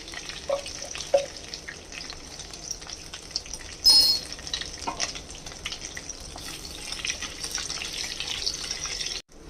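Panch phoron seeds hit hot oil and sizzle in a pan, a close frying hiss with scattered pops and crackles, one brief louder burst early, settling into a steady sizzle.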